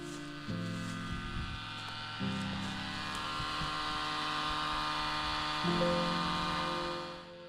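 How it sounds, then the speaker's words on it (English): A shallow well pump in need of a rebuild runs with a steady electric hum and buzz, its whine shifting pitch a few times before tapering at the end, fairly quiet and with no talk. "the noise you're hearing is our pump that needs to be rebuilt"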